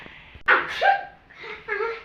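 A woman's sneeze at home, a sharp burst followed by a short voiced tail, close and fairly loud, with brief talk-like sounds after it.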